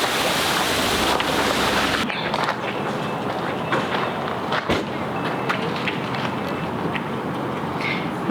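A small creek flows beside a garden area, giving a steady, loud rushing wash with some wind buffeting against the microphone and a few brief knocks.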